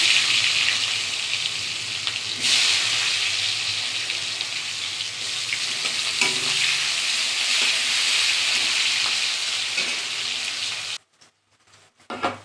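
Sliced onion sizzles steadily in hot oil left from frying potatoes, a loud continuous close hiss that runs without a break for about eleven seconds, then cuts out abruptly into near silence.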